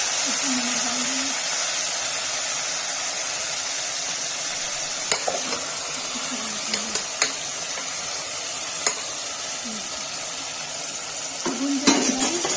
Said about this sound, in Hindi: गाइस देखिए मूली भून रहा है